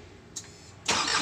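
A truck engine is started with a push button: a brief starter click, then a pause before the engine catches and fires into a loud, steady close-up running rumble.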